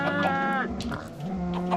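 Minecraft chickens cluck and squawk in a short burst of several harmonic calls, close and fairly loud, with a low game tone underneath and no speech.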